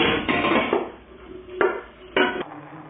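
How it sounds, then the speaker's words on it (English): Spaghetti tossed through puttanesca sauce in a metal pan, with scraping clatters and a couple of sharp utensil knocks against the pan, close by and without speech. "we can mix the spaghetti in with the sauce"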